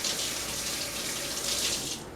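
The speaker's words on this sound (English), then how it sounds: "I'm going to quickly just rinse my hands here." Water runs steadily from a kitchen tap as hands are rinsed at the sink, a close, continuous hiss of flow with no speech.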